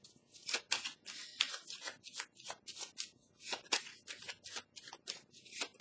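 Tarot cards are handled and cut close up, giving crisp, papery flicks and snaps in a quick, uneven rhythm. The sound is fairly quiet, and no one speaks over it.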